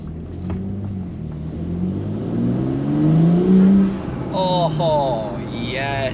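A BMW M3 engine fitted with a BMS intake revs up from inside the cabin, its harmonic drone rising and swelling to a loud peak before easing off, with a voice speaking briefly near the end.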